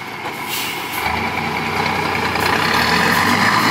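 Isuzu dump truck with trailer reversing while dumping rock, a loud nearby diesel rumble with a steady high reversing whine and hiss of air over the engine.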